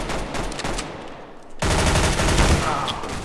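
Automatic AK rifle fire in a CS:GO competitive match comes as a dense burst of rapid shots, with a brief lull before a louder stretch of continuous firing.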